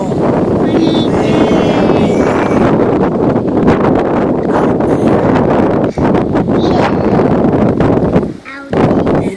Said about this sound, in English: Our hair is blowing in the wind. It's so windy.